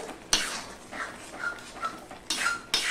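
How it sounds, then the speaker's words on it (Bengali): Taro leaves (kochur shak) with soaked chana dal and spices being stirred in a pan: quiet scraping strokes of a spoon against metal, with two sharp knocks, over a low simmering hiss. "এবার আমি একটু পর পর এইভাবে ঘেঁটে দেব"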